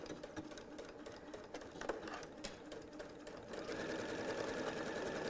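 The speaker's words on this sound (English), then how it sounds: "And you can kind of go normal sewing speed here, whatever you're comfortable with." Steady whirring of a sewing machine running a quarter-inch seam on a reversible sun hat, running continuously at normal speed and growing slightly louder and fuller toward the end.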